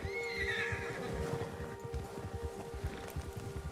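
A horse whinnies, spooked by a bear in the Red Dead Redemption 2 video game, one fairly faint descending neigh followed by rhythmic clip-clop hooves under a low ambient hum, with no talking.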